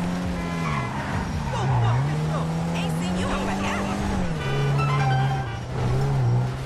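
A car in Grand Theft Auto V revs and drives with a loud, steady engine drone that rises and falls as gears shift, with tire noise, under someone talking.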